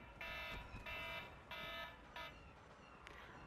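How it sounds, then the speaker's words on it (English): Electronic reminder alarm beeping in repeated bright tones, three longer pulses then shorter chirps fading off, heard indoors with no talking. "That's my alarm to record today."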